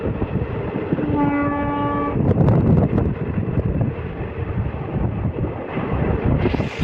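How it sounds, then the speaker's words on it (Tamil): Pulling out of Omalur Junction, the Mettur Dam Express sounds a steady horn for about a second over a constant heavy rumble of wheels and rushing wind noise. "நம்ம ட்ரெயின் ஓமலூர் ஜங்ஷன்லேருந்து கிளம்பி ஸ்ட்ரெயிட்டாக தாங்க போகும்"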